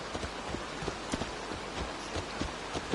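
Horse hooves clip-clop at a steady trot in Assassin's Creed Valhalla, a repeated rhythm of soft thuds over a rainy, hissing backdrop with no talk.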